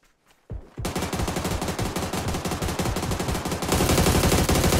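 Rapid automatic gunfire in the online shooter PUBG, a dense, steady burst of shots that starts abruptly after a brief quiet moment and grows louder in the final second, with no talk over it.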